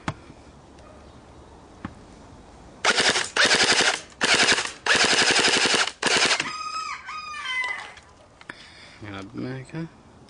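An M1A1 Thompson submachine gun fires several loud, close automatic bursts of rapid shots with short pauses between them, followed by ringing metallic clinks and a voice speaking.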